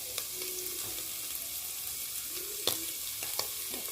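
Saltfish frying in a pot with ketchup for Caribbean-style saltfish rice gives off a soft, steady sizzle, with a few sharp clinks and scrapes from stirring toward the end.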